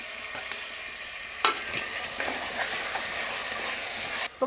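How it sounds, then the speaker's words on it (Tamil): Onions with ginger-garlic paste sauté in a pan, giving a close, continuous hissing sizzle with a couple of sharp scraping stirs and no talk. "வெங்காயம் நல்லா வதங்கிடுச்சு."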